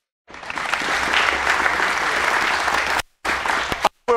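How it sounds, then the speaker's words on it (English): Audience applause for a pilot with 39 air medals, a dense wash of clapping from a large crowd that runs steadily, then breaks off briefly twice near the end. "You can clap for him. Go ahead."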